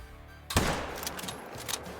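A single loud rifle shot fired at a bighorn sheep about 100 yards away in the Call of the Wild hunting game. It cracks sharply after a quiet stretch, then rings out and decays over the next second and a half.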